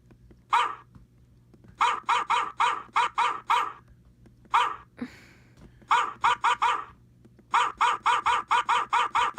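Dog barking sound effect played from a soundboard: repeated rapid bursts of loud, sharp barks in quick clusters with brief pauses between them, close and dominant, with no talk over it.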